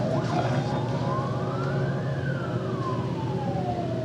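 A police siren sounds nearby, one long slow wail rising and then falling over dense traffic rumble, with no one speaking.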